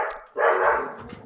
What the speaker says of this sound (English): I don't think I've ever heard him bark that much in my life.